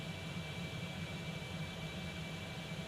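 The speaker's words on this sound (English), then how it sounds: "Just going to turn up the audio for the aeroplane for you guys" Concorde jet engines in the X-Plane 11 flight simulator produce a steady, loud, broadband roar with a constant high whine, continuous and unbroken, with no talk.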